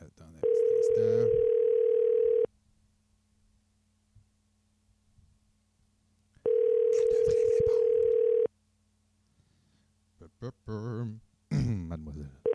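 Two long, steady telephone dial tones, each lasting about two seconds with a quiet gap between, as a call is placed to a guest on a French radio podcast, followed by faint voices at the end.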